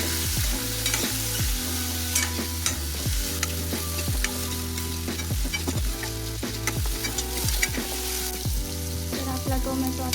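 Tomatoes sizzle steadily in a hot pan for a green pea curry while a spoon stirs them with repeated scraping strokes, loud and close, with no talk.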